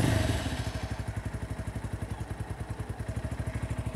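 A Kawasaki Ninja 300 replica with a 250cc single-cylinder engine fires up and settles into a rapid, even idle, a close, loud string of regular thumping pulses after a brief rough start.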